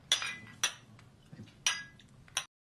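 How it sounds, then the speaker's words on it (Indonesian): Glasses clink together in a toast at a survival-training gathering, four bright separate chimes spread over a couple of seconds, close and clear with faint clatter between them. "mereka pun kemudian bersulang."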